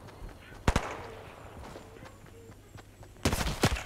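Gunfire in the mobile battle royale game Fortnite Mobile: two sharp shot bursts, one early and a denser cluster near the end, over quiet game ambience.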